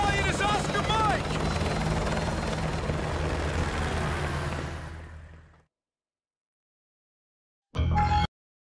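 A helicopter in the Call of Duty Modern Warfare 2 video game, its steady rotor thrum loud and continuous with a voice speaking over it, fading out to silence before a brief burst of sound at the end.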